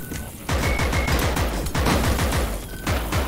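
Rapid repeated gunfire from shooting enemies in the VR roguelike game Compound, dense bursts of loud, close shots in a fast rhythm with brief pauses, no talk.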